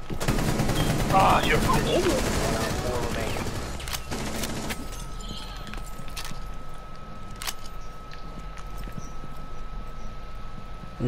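Gunfire in Rainbow Six Siege, heard as a loud dense burst of rapid shots early on, then scattered single cracks and game noise over a steady hum, with a player talking briefly.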